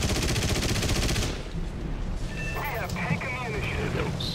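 Gunfire strikes a Pe-2 bomber in War Thunder, a dense rattling burst that carries through the first second, then fades into engine drone with scattered impacts as someone talks.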